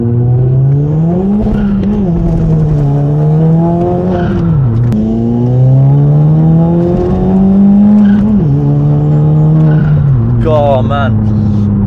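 A Stage 3 VW Scirocco with a diverter valve pulls hard through the gears on boost, its engine note repeatedly rising then dropping at each shift, loud and close from inside the car, with a voice talking over it.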